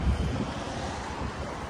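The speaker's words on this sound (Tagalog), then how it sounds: "Ang ganda ng simoy ng hangin." Steady wind rushes across the microphone with a broad roar, mixed with the wash of surf nearby, continuous and fairly loud.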